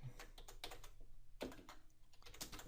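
Quiet, quick keystrokes on a computer keyboard while typing a line of text in Notepad, irregular clicks in short bursts with small pauses, close and soft.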